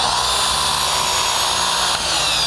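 A FLEX polisher runs continuously with its trigger locked while buffing a car, giving a loud, steady high-pitched motor whine at close range, with no talk.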